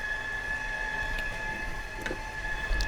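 A KitchenAid stand mixer runs on speed 3 through cheesecake batter, giving a steady, even motor whine with a constant tonal hum and occasional faint clicks, no voices over it.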